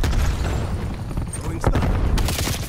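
Grenade blast in Call of Duty Black Ops Cold War multiplayer, a sharp burst around the middle of dense gunfire and game voice callouts, loud and close.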